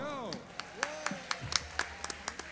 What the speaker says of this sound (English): Would you please give a big round of applause or scream and yell if you were with us right here at this award gala